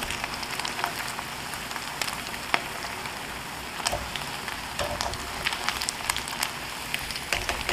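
Pork pieces deep-fry in hot oil for a quick second frying of sweet and sour pork. The oil gives a steady, dense crackling sizzle with scattered sharp pops, and no one speaks.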